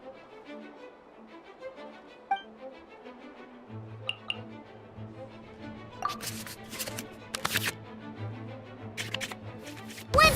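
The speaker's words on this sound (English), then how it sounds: "we can select any number of cards in our hand to shuffle back into the draw pile" Digital cards shuffled back into the draw pile in the Genshin Impact card game: a run of soft, quick papery ticks and flicks in the second half over a steady low music bed, with no voices.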